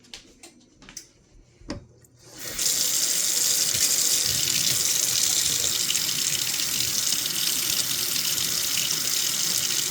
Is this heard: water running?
yes